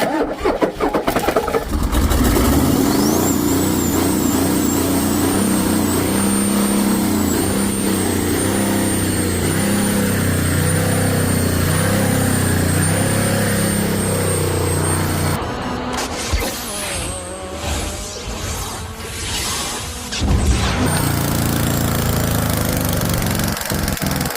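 A Ford 6.9 IDI turbo diesel engine cranks and catches, then runs with a loud, steady, close-up drone; partway through, the sound shifts as the engine note changes.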